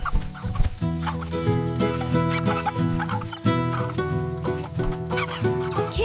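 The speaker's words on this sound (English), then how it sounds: "Hen, hen, cluck, cluck" A hen clucks in short, repeated bursts, mixed into loud, rhythmic background music that runs the whole time.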